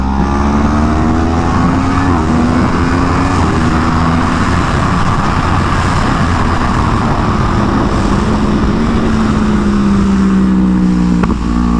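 A 2015 Yamaha YZF-R1 sport bike screams along a race track, its engine loud and sustained with rising and falling revs across gear changes, heard up close over constant wind roar.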